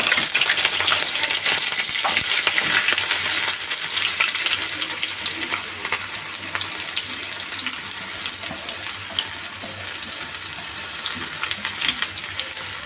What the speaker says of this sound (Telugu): ఇప్పుడు పచ్చిమిరపకాయలు అలాగే ఉల్లిపాయ ముక్కలు కూడా వేస్తున్నాం.